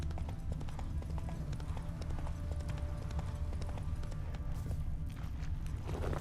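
Horse hooves clip-clop at a steady walking rhythm in the video game The Witcher 3: Wild Hunt, close and clear over a low ambient bed.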